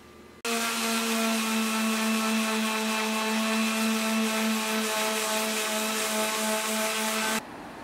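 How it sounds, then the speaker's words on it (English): Power sander works over wooden boards from a repurposed box spring, starting abruptly and running steadily and loudly up close with a strong hum for about seven seconds before cutting off, no voices. "Now I'm going to go ahead and sand this part."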